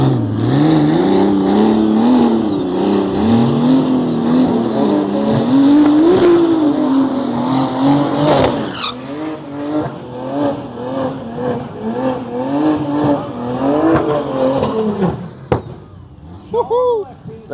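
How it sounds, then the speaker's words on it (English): A BMW race car engine revs hard and roars continuously through a burnout, with pitch rising and falling and tires squealing, loud and close, voices faintly underneath. "Let's get the burnouts."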